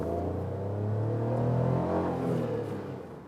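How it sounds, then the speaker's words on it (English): A Citroen C1's small naturally aspirated petrol engine revs up under hard throttle, droning louder and higher to a peak midway and then easing off, heard from inside the car with no talk. "When you really push the throttle, it gets quite loud."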